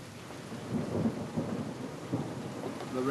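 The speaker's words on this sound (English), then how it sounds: "The rain does sound like it's getting worse" Heavy rain pours down in a dense, steady hiss, with low rumbles of thunder rolling underneath as the storm builds, close and continuous with no talking.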